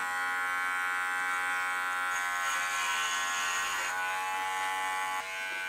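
An electric hair clipper buzzes steadily while cutting hair on its highest 14 mm setting, a close, continuous whine that shifts slightly in tone as it moves through the hair, with no talking.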